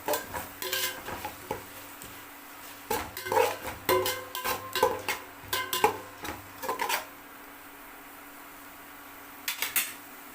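Mint and coriander leaves being sautéed in a pan for chicken biryani: a spatula scrapes and clinks against the metal in irregular bursts, then the clip goes quiet before a last brief clatter.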